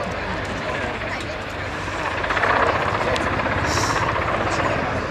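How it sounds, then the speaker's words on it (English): A Royal Navy Merlin HM1 helicopter at the Waddington 2010 airshow makes a steady, loud rotor and turbine roar that swells slightly midway, with a crowd faintly behind it. "Because it's a big helicopter,"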